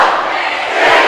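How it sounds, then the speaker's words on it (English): Loud, sustained roar of a cheering student section at a girls high school basketball game during a fourth-quarter run, a dense wall of voices with no single speaker standing out. "Listen to the crowd, folks."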